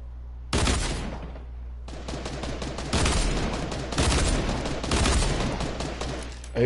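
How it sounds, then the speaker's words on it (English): Rapid video game gunfire from dual pistols and a hunting rifle, coming in dense repeated bursts that run for several seconds, loud and close, with a low steady hum underneath. "I hit one for 29. With the dual pistols, that's amazing."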